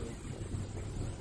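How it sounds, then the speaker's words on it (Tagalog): Wind blows against a dog's face on a cool early Saturday morning outing, a steady, close, buffeting rush with a low rumble that fills the whole moment without a break. "mahampas yung hangin sa mukha ni Hondo."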